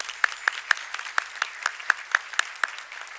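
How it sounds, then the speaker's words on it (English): Audience applause for a bagpiper at a bar association annual meeting, heard as sparse, distinct claps at a regular pace from a small number of hands, fairly close and crisp, with no talk. "Let's give our bagpiper, Christian Hunter, a round of applause."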